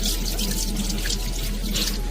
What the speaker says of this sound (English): Now rinse it thoroughly with water.